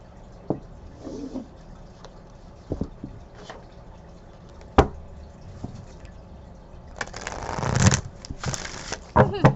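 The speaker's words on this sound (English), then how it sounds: "You see how the wind from shuffling made those cards fly up?" Oracle cards being shuffled with a soft riffling flutter, a few sharp taps and clicks, building to a louder burst of shuffling near the end.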